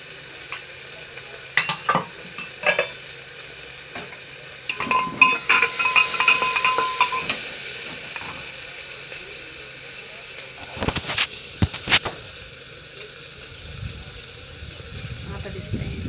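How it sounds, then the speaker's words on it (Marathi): Onion sautéing in a pan for khichdi gives a soft sizzle with stirring scrapes and clinks in bursts, under a voice talking. "कांदा आलाय परतत."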